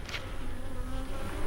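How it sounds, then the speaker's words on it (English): Honeybees buzzing steadily at a beehive, a dense close drone with one louder bee passing near at the start. "I thought I had a bee in my veil."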